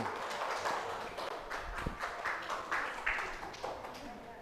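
A classroom of students claps for a winning group, with irregular, moderately loud bursts of hand claps spread across the whole stretch and a murmur of voices underneath.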